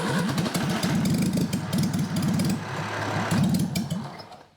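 A 1963 Mini engine with no carburettor fires briefly. It makes a rough, rapid sputtering chug in uneven bursts, loud and close, for a few seconds before dying away.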